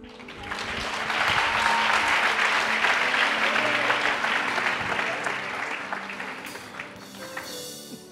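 An audience at a church gathering applauding: dense, sustained clapping that swells in and holds steady for several seconds before fading, with a voice briefly audible near the end.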